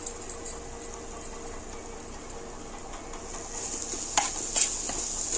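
Boti, goat tripe, frying in a pan with coriander powder, chili powder and garam masala: a steady bright sizzle throughout, with a couple of louder stirring scrapes near the end.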